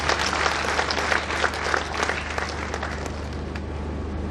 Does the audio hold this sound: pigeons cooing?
no